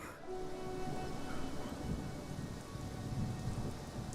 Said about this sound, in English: Very dark and rainy.